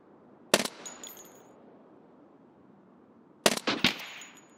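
An UZI PRO pistol submachine gun fires in a video game at long range, one sharp burst followed after a pause by a rapid cluster of loud cracks with short echoing tails.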